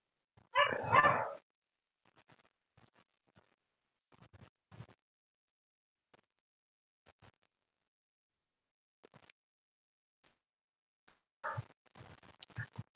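Dogs barking in short scattered bursts, one loud nearby bark cluster at the start and another near the end, with faint distant yips and scratches between long quiet gaps.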